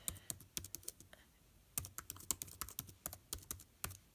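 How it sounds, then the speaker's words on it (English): Fast typing on a computer keyboard, crisp close key clicks in quick irregular bursts with a short pause midway, no speech over it. "let me type properly"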